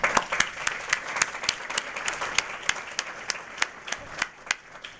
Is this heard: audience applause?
yes